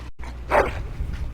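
A dog in the video game Dragon Age: Origins lets out a short whine and a bark, fairly close and moderately loud, over a low ambient game background.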